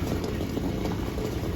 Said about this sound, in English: so my eggs are boiling